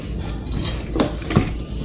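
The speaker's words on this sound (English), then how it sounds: "we're just gonna mix this all together" Meatball mixture being mixed by hand in a bowl, with soft squelching and a couple of brief clinks against the bowl, close and steady with no talking.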